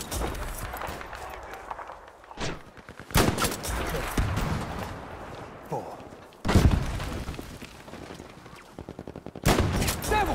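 Sniper rifle shots from a Scout in Battlefield 5, several sharp loud cracks spaced a few seconds apart over continuous gameplay noise, with a person talking in between.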